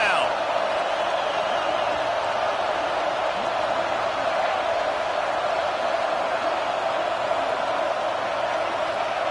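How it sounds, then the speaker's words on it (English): A football stadium crowd roars on third down, a dense, loud, sustained wash of cheering that holds steady with no breaks throughout. "Decibels rising as the crowd gets behind this defense on third down."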